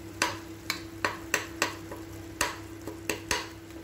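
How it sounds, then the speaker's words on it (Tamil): Tomatoes sautéing in a pan for mutton biryani, with a steady low sizzle and about ten sharp, evenly spaced spatula strokes scraping through the softened mash, close and moderately loud, no voices. "பாருங்க தக்காளி வந்து நல்லா வதங்கிருச்சு"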